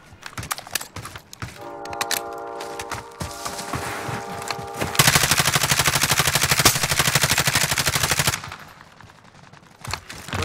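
Automatic gunfire in the Modern Warfare Warzone video game, rapid bursts that build into a dense, loud sustained stretch of shooting before trailing off into scattered shots.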